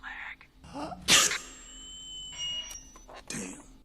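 One sharp, loud sneeze bursts out near the start. A few electronic beeps follow against a quiet indoor background.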